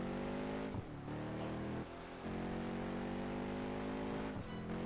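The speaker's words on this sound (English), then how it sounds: "And man, the engine sounds great." A race car engine in Project Gotham Racing 4 drones loudly and steadily with strong harmonic tones. It drops briefly as the car shifts or lifts, then climbs back up, with no talk over it.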